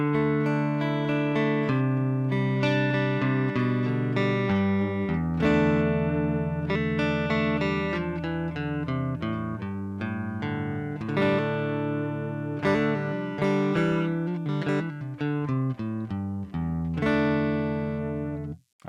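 An electric guitar played through a Fractal FM9 unit gives a continuous distorted riff of chords and quick note runs, loud and full for the whole stretch, with no voices.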